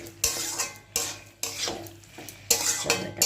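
Spiced goat liver (mete) sautéed in a pan, with a spoon scraping and stirring in bursts every second or so, clattering against the metal over a soft sizzle, close and fairly loud.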